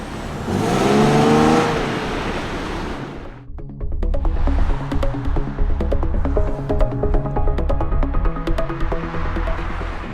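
A Nissan 370Z V6 accelerating hard, a rising engine roar climbing in pitch for a few seconds, then a steadier rumbling drone at lower pitch with ticking and clattering on top.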